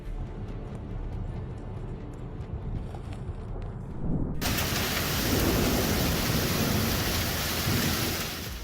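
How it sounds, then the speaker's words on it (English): Heavy rain pours down in eastern Florida with thunder rumbling, a steady loud wash that suddenly swells to a dense, roaring downpour midway and stays intense to the end. "Rain poured down in sheets"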